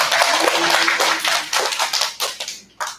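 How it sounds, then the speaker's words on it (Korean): A church congregation at a Sunday daytime service claps in a dense burst that thins into scattered claps and stops, close and fairly loud. "박수로 하나님께 영광 올려드립니다."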